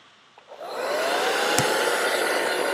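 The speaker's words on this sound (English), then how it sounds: "grab your hair dryer" A handheld hair dryer fitted with an air director nozzle switches on and blows steadily on medium heat, a loud continuous whooshing rush that swells within the first second and then holds.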